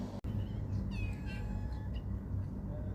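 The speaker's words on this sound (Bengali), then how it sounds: "এই যে আমার কতগুলো বিলাই আছে" Several cats meow in a few short, rising and falling calls, fairly faint against a steady low background hum, with no one speaking.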